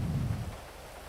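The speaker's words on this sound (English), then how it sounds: "it's raining" Rain falling in a roleplay video game, a steady broadband hiss with a low rumble that fades slightly over a moment, with no voices.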